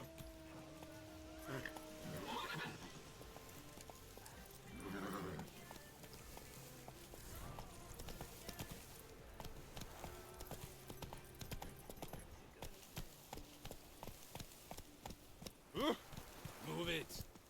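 Roach the horse in The Witcher video game trots with steady clip-clop hoofbeats and gives a whinny early on, with a voice talking over the hooves.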